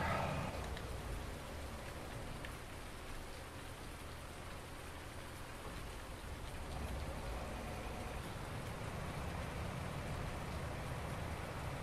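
Steady rain in the video game Farming Simulator 19 on the Felsbrunn map, a dense continuous hiss of falling drops and rain on surfaces, even and unbroken throughout.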